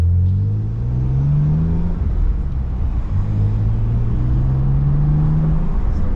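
A BMW M4 with its exhaust valves open rumbles steadily with a deep, low drone that swells as the revs rise twice, heard close and loud, with no talking.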